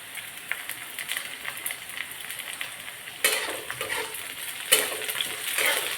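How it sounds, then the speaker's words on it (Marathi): Curry leaves crackle and spit in hot oil in a home kitchen pan, a dense close sizzle that swells suddenly twice as more hits the oil, with faint stirring underneath and no talk. "तर आपण आता कढीपत्ता टाकून घेऊया"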